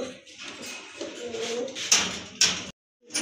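A pair of large Giasulli pigeons cooing up close, soft repeated throaty calls with a couple of sharp clatters near the end before a brief silence.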